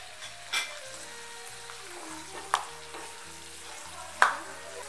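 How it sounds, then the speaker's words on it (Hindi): Almonds fry lightly in ghee with a soft, steady sizzle, broken by a few sharp clinks of a spoon stirring the pan. "तो हमने डालने हैं बादाम, और इसे हम हल्का फ्राई करेंगे।"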